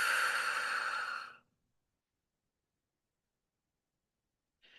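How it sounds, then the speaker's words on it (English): A slow, deep exhale during a guided breathing exercise, heard as a long, soft, breathy rush that fades out after about a second, then silence, with the faint start of another breath at the very end. "Deep breath in. Hold it. Slowly exhale."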